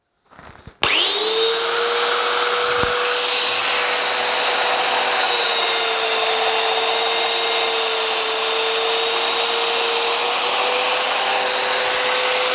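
Festool Domino DF500 joiner with a 10 mm cutter cutting a mortise in wood: a steady, loud, high motor whine with an extraction hiss that starts abruptly after a short clatter and holds evenly throughout.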